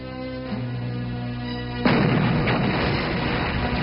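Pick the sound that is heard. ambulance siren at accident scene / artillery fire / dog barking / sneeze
artillery fire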